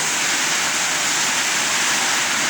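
Floodwater rushes into a house in a loud, steady roar, like a constant torrent. There is no break in the noise and no voices are heard.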